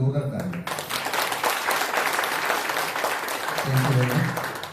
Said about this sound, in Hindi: मैं चाहता हूँ जितने भी पार्टिसिपेंट्स थे उनके लिए एक बार जोरदार ताली